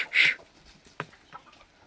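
A chicken gives one short, sharp squawk in a village yard, followed by a few faint clucks and scuffles in a quiet setting.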